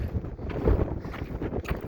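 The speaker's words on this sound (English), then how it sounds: "on the windy saddle between Lincoln and Cameron" Gusty wind buffets the microphone on a high mountain saddle between Colorado 14ers, a rough, continuous rumble with uneven surges, close and fairly loud, no talking.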